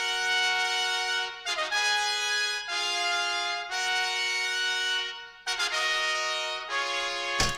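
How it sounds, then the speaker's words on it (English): Multi-tracked trumpet takes stacked in harmony play back as sustained, bright brass notes in several held phrases separated by brief breaks, clean and fairly loud. "he recorded trumpets, 4 takes of them, and they sound like this"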